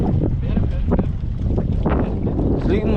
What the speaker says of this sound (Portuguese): Desliga o motor, velho.